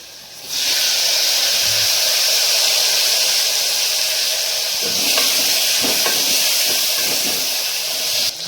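Tomatoes and onions sizzling in a pan for chana masala, a loud steady hiss that starts abruptly and holds throughout, with a few faint clinks of a utensil near the end and no speech.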